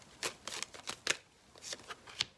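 Tarot cards being handled and drawn from a deck, a string of soft, crisp card flicks and slides, close and quiet, with no talking.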